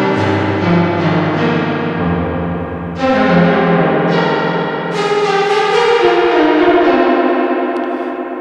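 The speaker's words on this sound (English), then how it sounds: "I just slapped a reverb on here." Synthesized tones in Ableton Live run through a reverb with dry/wet turned fully up, giving a series of sustained, washy, echoing chords that change every second or so and decay into a spacious tail.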